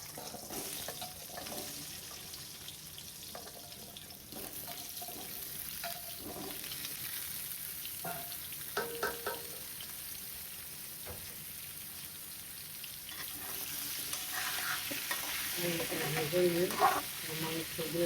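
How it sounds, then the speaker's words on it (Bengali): Potatoes fry in a pan while being stirred for a beef dish, making a soft, continuous sizzle with a few utensil clinks and scrapes that grow busier near the end. "আলু ভাজা হয়ে গেছে,"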